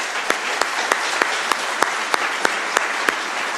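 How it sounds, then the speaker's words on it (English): An audience at a security conference keynote gives a round of applause, a steady wash of many hands clapping throughout, with sharper individual claps popping out at regular intervals close by. "would you please give a round of applause to Jack Daniel?"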